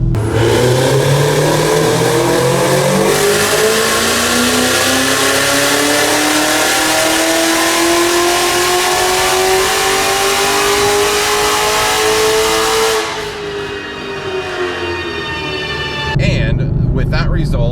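A tuned car making an 800 wheel-horsepower dyno pull, its engine revving steadily upward in a long, loud sweep for about thirteen seconds before the throttle lifts and the tone drops away.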